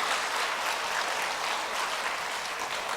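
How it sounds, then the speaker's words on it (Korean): A church congregation applauds steadily for a few seconds, a dense wash of clapping from many hands with no voices over it. "박수 한번 안 치십니까?"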